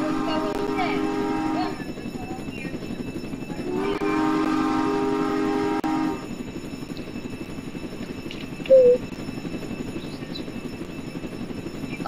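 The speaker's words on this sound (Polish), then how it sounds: "w ogóle tu pociąg jedzie" A train rolls past in the Roblox Jailbreak game, its horn sounding in two steady blasts of about two seconds each over a constant rumbling background.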